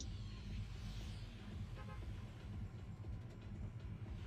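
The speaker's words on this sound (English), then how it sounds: "I do notice the train is moving a bit slower." A train in Fortnite rolls along with a low steady rumble and faint rhythmic clacking, a brief higher whine near the start, heard without talk.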